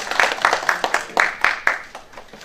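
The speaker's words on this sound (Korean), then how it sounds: "여기서 박수 한번 쳐주시면 감사하겠습니다" Audience at a high school admissions seminar in a hotel ballroom clapping in a short burst of applause, with irregular overlapping claps that thin out and fade toward the end.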